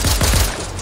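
Loud, rapid burst of gunfire in the video game Fortnite, several close shots packed into a fraction of a second with no voices over it.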